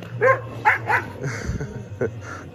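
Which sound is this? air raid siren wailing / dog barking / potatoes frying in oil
dog barking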